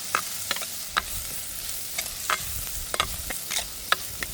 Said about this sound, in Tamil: எல்லாத்தையும் சேர்த்து கிண்டி விடுவோம். ஒரு கால் எண்ணெயில் பொரியல்.